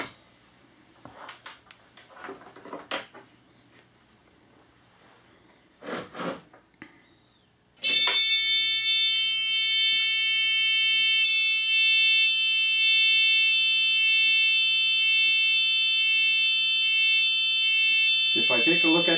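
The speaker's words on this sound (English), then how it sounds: "So, I will reconnect my buzzer system." A high, steady electronic buzzer tone from an ignition timing tester on a Rotax single-cylinder engine sounds continuously after several seconds of quiet rustling and faint voices, staying loud and unbroken to the end.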